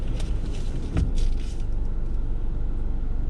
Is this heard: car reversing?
yes